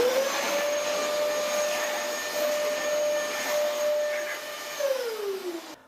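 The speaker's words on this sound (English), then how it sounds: "the Dyson DC33 in hard floor mode." Dyson DC33 upright vacuum cleaner running in hard floor mode, a steady close whine with a strong motor tone that holds throughout, then drops in pitch near the end as it winds down.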